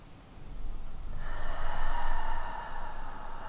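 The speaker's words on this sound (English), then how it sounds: "One more deep breath." A deep breath during a toned-arms yoga routine, one long steady airy breath that swells and then slowly eases, close to the ear, with no talking.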